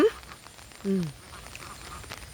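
Ducks in a farm garden after rain give two short, nasal quacks, one at the very start and one a moment later, over a faint outdoor background hum.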